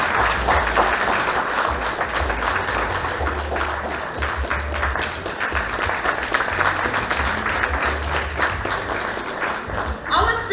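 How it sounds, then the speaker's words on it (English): Sustained audience applause at a civic reception and awards ceremony in a city auditorium, a loud continuous wash of clapping lasting over ten seconds with a low hum and murmur of voices underneath. "Let's give her a round of applause."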